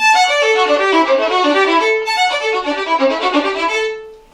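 A violin plays a quick, flowing Mozart concerto run of notes that leap between strings in a lively rhythmic pattern, clear and close.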